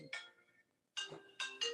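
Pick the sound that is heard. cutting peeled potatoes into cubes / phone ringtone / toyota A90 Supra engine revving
phone ringtone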